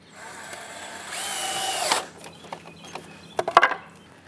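A power drill drives screws into the wooden frame of a rain barrel stand, a steady whirring run for about a second followed by short bursts and clunks nearby, with no talking.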